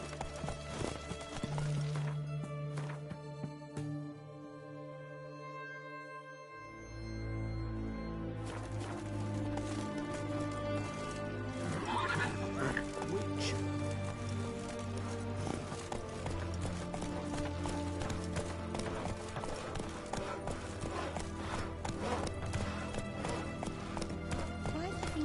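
Hooves clip-clop at a steady trot in The Witcher 3, with an occasional snort or neigh, running through most of the stretch under game music, ambience and voices talking.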